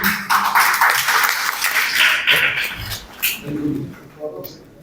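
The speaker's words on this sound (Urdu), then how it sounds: "آپ سب کی بھرپور تالیوں میں" A conference audience at a Creators Conference session applauds to welcome guest speaker Akram Bhatti. A dense burst of clapping fills the room for about three seconds, then thins out and fades.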